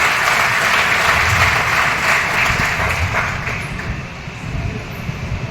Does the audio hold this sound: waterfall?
no